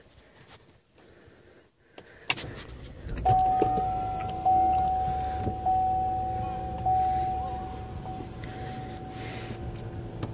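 A 2016 Chevrolet Impala LTZ starting by push button: a click, then the engine catching and settling into a steady idle, with a repeating chime sounding over it, close by and without speech.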